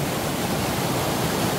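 Steady broadband rush of a small waterfall in a mossy, rocky mountain valley stream in Gangwon-do, continuous and fairly close, with no voices.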